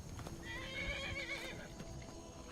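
A horse in the video game Skyrim neighs with a long whinny over steady clopping hooves and rumbling game ambience, close and fairly loud.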